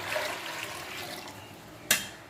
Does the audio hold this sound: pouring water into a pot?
yes